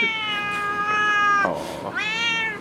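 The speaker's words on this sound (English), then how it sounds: "Oh, angry kitty." An angry pet cat lets out a long, close, drawn-out meow that breaks briefly in the middle and then rises again, loud and alone with no talking.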